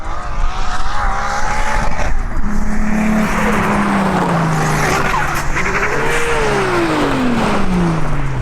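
A Toyota Supra with a 2JZ engine launches in a street drag race, its loud engine rising in pitch through the gears with tire squeal mixed in. The roar stays close and continuous, with no talking.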